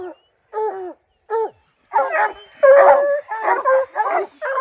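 Hunting dogs on a spring bear hunt in Utah bark and whimper in a run of yips and whines, close and fairly loud, first in short separate bursts and then in a denser, continuous stretch of barking.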